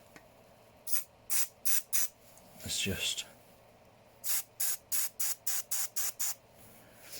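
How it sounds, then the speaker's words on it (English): WD-40 is sprayed onto the motors of a stripped-down quadcopter in short, sharp hissing bursts, first a few spaced squirts and then a quick run of about eight more, with a soft voice speaking briefly between them. "Don't recommend spraying your motors with WD-40"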